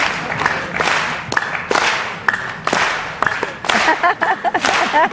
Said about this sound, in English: everybody clap your hands to this beat